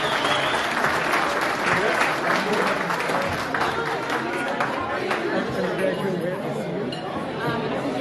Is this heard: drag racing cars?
no